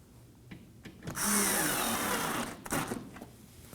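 A power drill drives a Phillips screw into the front bumper impact absorber of a 2016-2020 Kia Sorento, a close whirring burst of about a second and a half that ends in a brief tightening stutter, with quiet clicks before and after.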